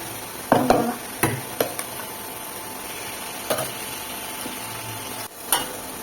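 Lentils that have hardened go into a hot pan with cooked greens, giving a steady low sizzle broken by a handful of sharp spoon scrapes and clinks against the pan.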